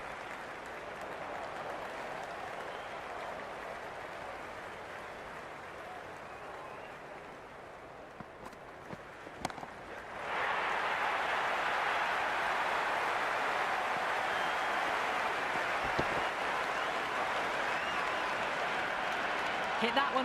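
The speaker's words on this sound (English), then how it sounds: "There's a buzz, a real buzz coming from the stands." Stadium crowd at a T20 World Cup final cricket match between India and New Zealand, a constant roar of cheering and applause that swells louder partway through, heard from the commentary position.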